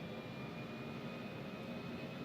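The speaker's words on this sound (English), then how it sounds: "engine sounds are not bad" Simulated Embraer E-190 jet engines in X-Plane 12 give a steady, even drone with a faint high whine on top, heard alone and unchanging throughout.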